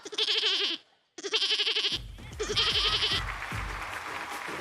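A person imitates a goat, bleating in wavering cries, with two bursts separated by a short gap, and applause and cheering from a studio audience join in partway through.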